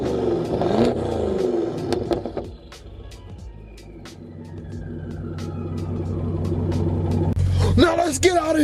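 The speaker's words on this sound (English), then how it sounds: "let's go be an idiot and bang the rev meter off the wall on this brick wall right here" A BMW 650i Gran Coupe fitted with front mount intakes revs beside a brick wall, its engine note climbing and holding in a sustained loud rise before dropping off, with talk briefly at the start.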